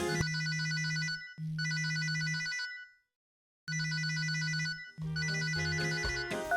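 A telephone rings in two bursts of bright repeating electronic trill, a short silent pause, then two more rings, loud and close with no one speaking.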